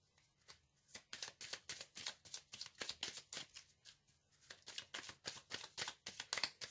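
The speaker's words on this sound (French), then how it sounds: "je vais d'abord tirer les cartes du tarot, ensuite une pierre, des cartes d'oracle et les charms" Tarot cards being drawn and shuffled in a series of crisp, papery slaps and flicks in a quick, uneven rhythm, close and fairly quiet, with a brief pause midway and no voices.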